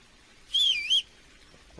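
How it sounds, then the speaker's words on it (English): A single whistle calls a horse in the game Kingdom Come: Deliverance. It is a short, clear two-part rising and falling tone, close and alone against a quiet background. "Why am I whistling?"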